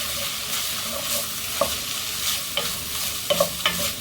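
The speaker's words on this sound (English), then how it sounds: "Stir that around." Chicken seasoned with garlic and onion powder sizzles in a frying pan while a utensil stirs it, with soft scraping strokes and a few sharper clacks against the pan over a constant low frying hiss.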